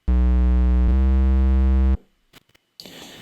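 A loud, heavily distorted trap-style 808 bass note sustains for about two seconds with a brief retrigger, then cuts off into near silence and faint noise.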